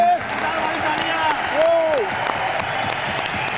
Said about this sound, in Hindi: एक बार मैं चाहूँगा आप टीम के लिए ताली बजा सकते हैं अगर काम अच्छा लग रहा हो